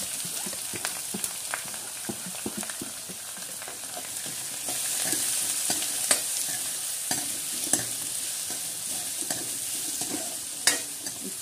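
Chopped onion and garlic sizzle steadily in a hot pan, with repeated scraping stir strokes for about eleven seconds; the frying grows slightly louder partway through.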